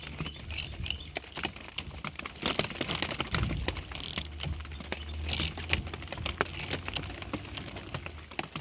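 A hand ratchet tightens a bolt on a C10 Silverado, making close, continuous rapid clicking mixed with metallic rattling and handling noise throughout, with no talk.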